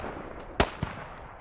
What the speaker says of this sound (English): Whoa, another big explosion.